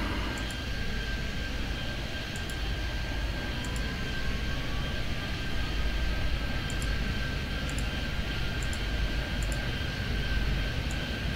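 Airplanes in the airport game Airport Madness 3D, a constant jet engine roar with a thin high whine, plus short repeated high clicks scattered throughout.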